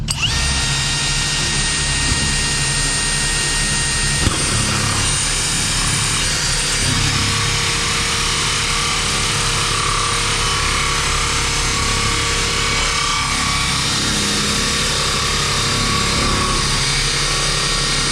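A drill bit bores out a hole while a fiberglass swimming pool is built, a loud continuous high-pitched whine and grinding that runs steadily without pause, with no talk over it.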